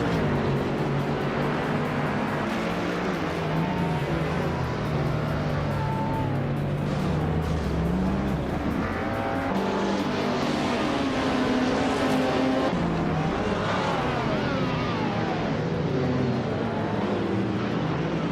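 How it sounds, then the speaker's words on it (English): Race cars of the LMP 900 class roaring around the Ibisu West circuit in a racing video game, a continuous loud pack of engines with shifting pitch as cars pass and overtake, no talking. "The LMP 900 class is pushing high speed and close competition at Ibisu West."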